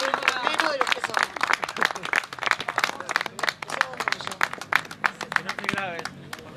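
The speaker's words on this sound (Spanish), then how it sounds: "Un aplauso para Vilma." Audience at a university political presentation clapping for the speaker Vilma, sharp uneven claps mixed with crowd murmur and talking voices, fairly close throughout.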